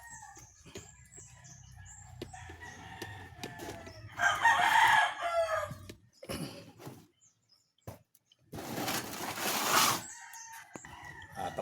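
Backyard chickens and chicks cluck near and far, with two loud rooster crows breaking in partway through and no one talking.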